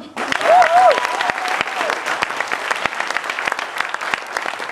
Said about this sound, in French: Quitte à applaudir, donc applaudissons également Annette, notre maquilleuse.